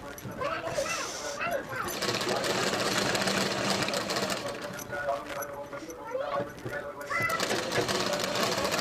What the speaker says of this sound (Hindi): अब हम अस्तर को मेन कपड़े के साथ इस तरह से सिलाई लगा के हम दबा लेंगे।